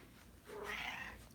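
A big 20-pound pet cat named Gigi gives one drawn-out meow that rises and falls. It is close and fairly loud over a faint background hiss.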